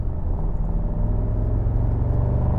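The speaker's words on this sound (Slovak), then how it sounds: "tá zvuková kulisa toho 8-valca, ten typický AMG bublotavý, nahnevaný, pekelný zvuk" Deep, burbling V8 rumble from a Mercedes-AMG GT 63, steady and loud throughout, with a rich low-pitched growl and no talking over it.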